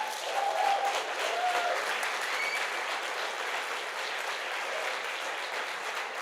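Steady applause from the audience at an open public meeting in Reykjavík, filling the whole stretch at an even level with a couple of faint whistles near the start.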